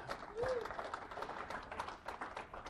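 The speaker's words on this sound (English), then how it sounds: "if I get a nice big round of applause for Nick Scott." Audience at a Nagios monitoring conference applauding a speaker, a faint, fairly thin patter of clapping heard at a distance in a quiet room, with faint murmuring underneath.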